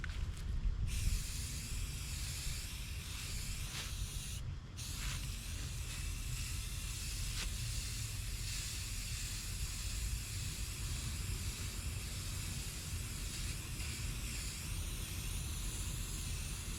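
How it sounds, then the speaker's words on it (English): A continuous hiss of spray from an aerosol can of gray primer runs steadily for the whole stretch, with a couple of brief pauses early on. "I will give it a quick spray with the gray primer."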